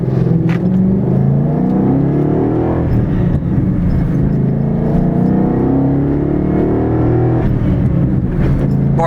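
A Shelby American GT350 Mustang with a short-throw shifter and sport coilover suspension accelerates hard, its engine note rising through revs, dropping at gear changes and climbing again, loud and close from inside the car.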